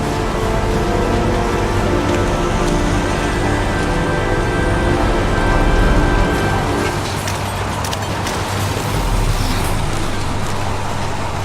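Rain falling on a highway in the video game Heavy Rain, a steady loud hiss mixed with low traffic rumble, continuous with a slight shift in texture partway through, no talk.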